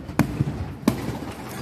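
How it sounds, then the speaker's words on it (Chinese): Explosions burst from a building fire engulfing a multi-unit apartment block, captured in news footage; two sharp, loud broadband bangs about 0.7 seconds apart, with a smaller thud between them over a rumbling background. "火势是真凶，佮传出爆炸的声"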